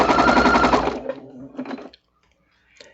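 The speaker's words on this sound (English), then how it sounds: "I'm just going to do a quick sew right down here." A sewing machine stitching small quilt pieces runs loud and fast for about a second, then stops, followed by a few faint handling clicks and a quiet rustle.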